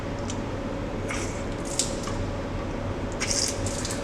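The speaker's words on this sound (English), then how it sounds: "The first thing we do in this test is we flush our test cocks to make sure that there's no dirt or debris in them." Test cocks on a Zurn Wilkins 975XL2 reduced pressure backflow assembly are flushed, giving a steady hissing, gushing water spray with a few brief spurts.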